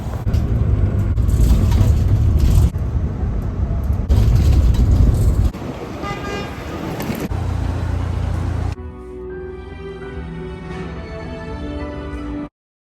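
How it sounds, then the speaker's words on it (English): A bus rolls through the Lincoln Tunnel toward the city, a steady loud low rumble of engine and road noise with wind roar, then quieter interior hum and some tonal whine near the end before cutting out. "we gotta hop on the bus and get through the Lincoln Tunnel and into the city"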